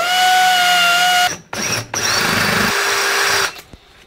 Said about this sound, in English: So I'll just use my die grinder here